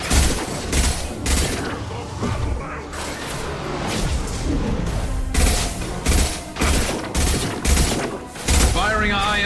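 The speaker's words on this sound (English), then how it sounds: "Firing a high-impact shot." High-impact gunshots in Mass Effect 2 Legendary Edition, played on Insanity difficulty on PS4 via PS5, fire as a string of loud, sharp bursts at uneven intervals amid constant battle noise and mechanical clatter.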